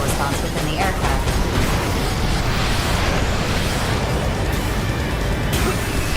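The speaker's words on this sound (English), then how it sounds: "It is a high-powered laser weapon." A high-powered laser weapon blast in the mecha video game Daemon X Machina, a loud, sustained roaring burst that fills the whole stretch with dense, rumbling energy and no pause.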